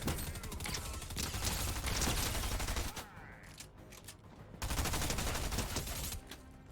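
Rapid automatic gunfire from a Fortnite match rattles in two long loud bursts separated by a short lull, with mechanical clicks between them.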